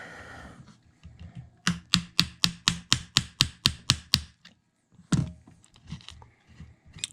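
A hammer drives a part into a PSA AR15 lower receiver with about eleven quick, evenly spaced metallic taps, followed after a short pause by one heavier blow and a few softer knocks.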